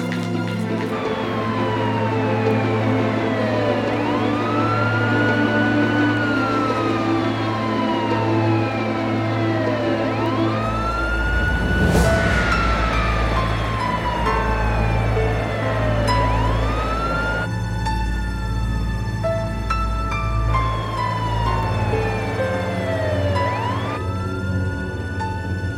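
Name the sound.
ambulance siren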